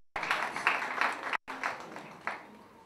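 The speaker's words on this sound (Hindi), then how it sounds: "जोरदार तालियां चाहूंगा आप सभी की तरफ से" Applause from a modest audience at an exhibition event in a hotel in Agra, close and uneven, with distinct clusters of claps, a brief dropout midway, then fading.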